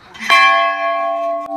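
A metal temple bell struck once at Ghorakhal Golu Devta temple, a bright clang that rings on with a sustained shimmering tone, near and fairly loud, with a faint knock near the end.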